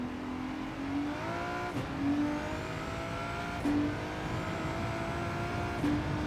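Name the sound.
race car engine revving in Gran Turismo 7 video game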